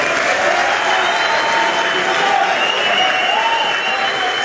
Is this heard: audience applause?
yes